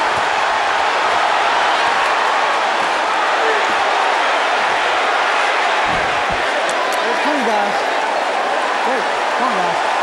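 Arena crowd noise at a heavyweight boxing match, a dense, loud, continuous roar that fills the whole stretch without letup, with a ringside commentator's voice faintly woven through it.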